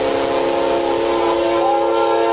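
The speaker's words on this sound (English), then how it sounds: "police dashcam footage captures the moment a train crushes a defenseless suspect" Train sounding a loud, steady horn blast at a railroad crossing, heard from a police cruiser's dashcam, a sustained close chord that holds for the whole stretch without pause.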